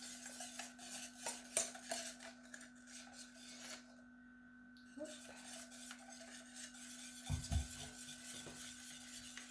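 Salted butter caramel being stirred in a pot at about 105 degrees: a scraping, rasping utensil works steadily against the pan, with a short pause partway through and a few louder knocks near the end, with no talk.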